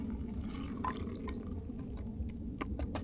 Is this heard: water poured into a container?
yes